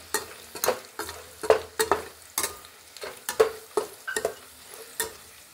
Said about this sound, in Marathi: आता कढीपत्ता आणि मिरची तळल्यानंतर याच्यामध्ये फुटाणे घालून घेत आहे